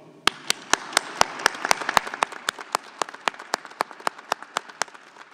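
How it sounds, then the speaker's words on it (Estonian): Audience applause at a Finno-Ugric culture capital handover ceremony in Mulgimaa, Estonia: sharp, distinct hand claps in a fairly regular rhythm, as if from a smaller group or a few prominent clappers, steady for about five seconds with no voices. "Nii et aplaus!"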